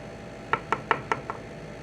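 A serrated grapefruit spoon scrapes seeds out of a halved jalapeno, giving five quick, evenly spaced scraping ticks that are close and crisp, with quiet around them.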